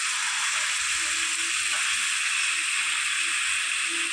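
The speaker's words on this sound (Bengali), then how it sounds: "কড়াই মাংস তেলে ফুটছে" Meat simmering in oil in a wok, a steady broadband hiss and sizzle that stays even and moderately loud throughout, with no talking.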